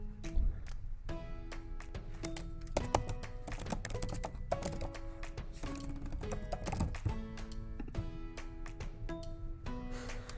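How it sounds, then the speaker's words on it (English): Fast, irregular clicking of computer keys as a web address is typed, steady tapping close by over faint background music. "Over here, you'll type in the URL."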